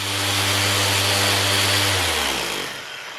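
A power tool polishes the face of a homemade car show trophy with a loud, steady motor drone that winds down near the end.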